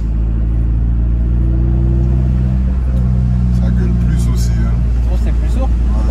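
Steady, loud low diesel engine drone from inside a moving Audi A3 1.9 TDI with a faulty injector nozzle, constant rumble with faint voices talking beneath it.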